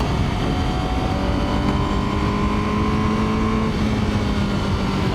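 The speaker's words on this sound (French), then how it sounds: "Là là là là là, cette accélération, c'est très stylé." A Honda CBR1000RR-R superbike accelerating hard, its engine roaring loud and close with rising harmonic tones sweeping upward as revs climb, continuous and without talk.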